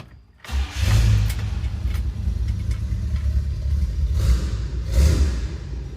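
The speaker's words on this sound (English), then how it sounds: "Let's see how she sounds. Okay, cold start in the shop" A 1964 Buick LeSabre with a cut exhaust cold-starts in a shop, catching abruptly after a brief crank and settling into a loud, deep, rumbling idle that swells with a couple of throttle blips, close and echoing.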